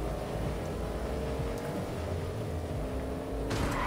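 A red sports car, close to a Lamborghini, driven in a video game, its engine giving a continuous moderate drone with a brief rising rev near the end and no voices.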